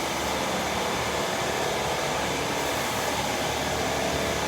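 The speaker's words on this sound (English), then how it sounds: "The damn air compressor kicked on" A shop air compressor runs with a constant loud, dense roar and hiss that fills the whole stretch evenly, with no pauses and no voices.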